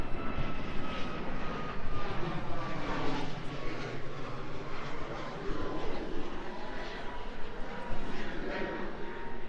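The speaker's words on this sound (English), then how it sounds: "Another plane." An airplane drones overhead beside an outdoor bike pump track in Washington. The engine rumble is loud and steady, swelling slightly for nearly ten seconds, with faint outdoor noise behind it.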